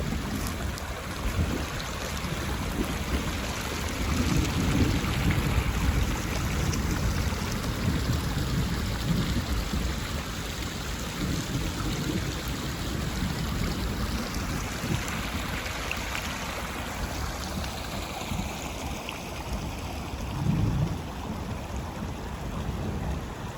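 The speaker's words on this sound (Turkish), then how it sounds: "şu güzel bir suyu bir görün istiyorum" Water flowing steadily along a centuries-old creek lined with old trees outdoors, a continuous broad rushing wash that holds an even level throughout, with wind noise mixed in.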